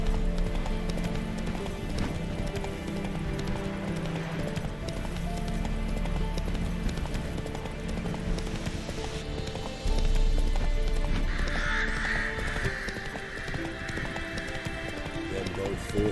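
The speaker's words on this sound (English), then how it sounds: "Whoa there, Roach" A horse gallops in The Witcher 3 with steady, rhythmic clip-clop hoofbeats that pick up partway through, a whinny breaking in, and game voices and music underneath.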